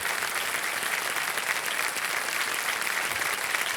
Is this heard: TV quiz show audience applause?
yes